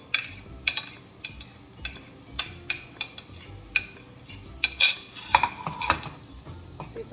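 A spoon stirs and scrapes fried onions and capsicum in a pan for kadhai paneer, making repeated clinking metal taps in an uneven rhythm over a faint background hiss, close and moderately loud.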